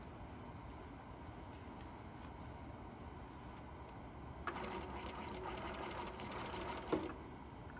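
A sewing machine stitching the side seam of a gusset, a low steady mechanical hum that swells into a louder, busier run of stitching partway through, with a brief clack near the end.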